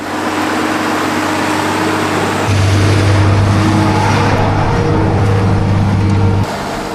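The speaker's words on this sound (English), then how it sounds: "here comes another rare tractor, a County" A County 1454 tractor, a 138-horsepower model built between 1972 and 1978, drives past at a classic working event; its engine drones loud and steady, swelling to a stronger low hum midway before easing again.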